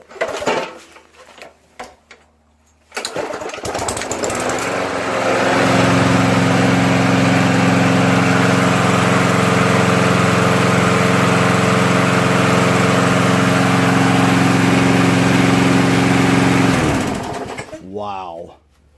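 A Craftsman 5HP Tecumseh engine on a leaf vacuum chipper sputters, then starts and runs loud and steady at a high-pitched idle, shutting down and winding off at the end after a short talking opening.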